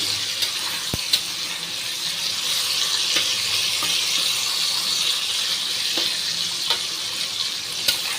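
Steady broadband sizzle of dhoka, lentil cakes for a vegetarian dhokar dalna, being fried a little longer in a pan, with a few faint clinks of stirring throughout and no talking.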